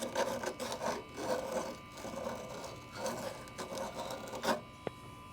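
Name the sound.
emery cloth deburring outside of old copper pipe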